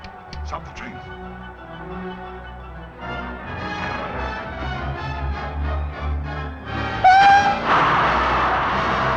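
A 1939-era steam train rumbles along the rails with a continuous rolling clatter, and a brief whistle sounds near the end while people talk over the noise.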